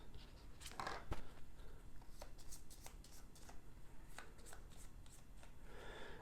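Cards riffled and shuffled in several quick bursts, close and fairly quiet, with soft papery flutters and snaps against a faint background hiss.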